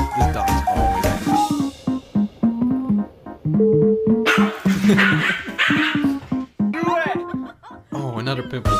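An angry dog barks loudly and close by in repeated sharp bursts, mixed with yips and whimpers, while people talk over and between the barks.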